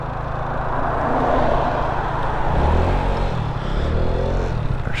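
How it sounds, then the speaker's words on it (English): A steady wash of road traffic with several cars passing close by, broadband tire and engine rumble swelling around the middle and holding loud throughout, no talk. "Man, there's a lot of cars coming."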